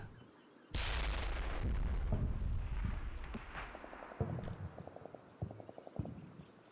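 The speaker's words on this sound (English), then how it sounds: "May have just been secondary explosions and things which do occur." In the video game Combat Mission: Cold War, a sudden heavy blast booms in, followed by a rumbling tail and a scatter of smaller popping secondary detonations and rapid crackles, with no voices.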